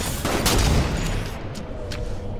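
Sniper rifle gunfire in a snipers-only one-on-one shooter video game: a loud, sharp shot bursts out early, then the reverberant tail fades under faint, brief later pops.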